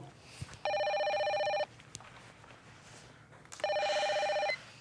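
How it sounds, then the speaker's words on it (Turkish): Two bursts of an electronic telephone ring, each lasting about a second with a steady warbling tone, separated by a pause, over faint room noise with no speech. "Telefon."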